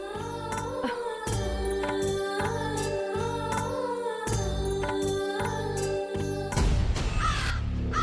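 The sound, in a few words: crows cawing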